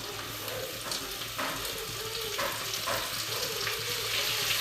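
Tomatoes frying in a pan for pulao, a constant close hiss with a watery, sputtering texture that holds steady and grows slightly louder toward the end.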